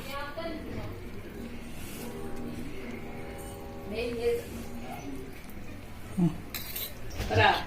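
Spoon clinks and scrapes against a bowl while okra chutney (bendakaya roti pachadi) is mixed, with steady background noise and a voice speaking over parts of it.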